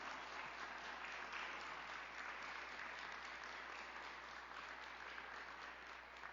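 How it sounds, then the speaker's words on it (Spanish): A church congregation applauding during a Spanish-language sermon on receiving the Spirit by hearing with faith: a steady, dense wash of clapping from many hands that holds at an even level throughout, fairly distant and with no speech over it. "Un aplauso al Señor."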